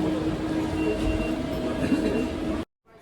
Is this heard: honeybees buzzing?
no